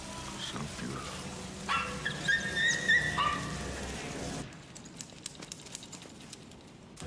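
A dog in a film scene whimpers and yips during a tense montage, high whines over a rumbling score with a voice talking, before the sound drops to quieter, sparse background noise.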